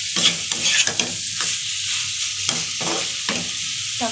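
Chicken gizzard and liver masala being stirred and sautéed in a pan gives a close, steady sizzle broken by repeated scraping strokes of a spatula, with no one speaking.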